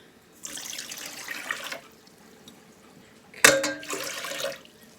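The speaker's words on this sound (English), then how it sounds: "Then we're going to do 3 cups of warm water." Warm water is poured into a bowl in two separate bursts while making old-fashioned cinnamon bun dough, each pour a close, hissing gush of about a second and a half, with a sharp clink at the start of the second.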